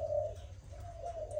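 A Malaysian spotted dove coos in soft, low, drawn-out notes close by, with a short pause between two phrases over a faint background hum.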